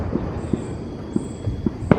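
Distant fireworks thud faintly over an open field at night, five or six soft, evenly spaced pops against a steady outdoor hiss.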